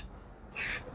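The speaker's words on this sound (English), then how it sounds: "I'm going to hold it like this, and I'm going to spray it in the same pattern." White paint sprayed from close range onto a Hurricane scale model: a single loud, steady hiss of about a third of a second, clean and alone.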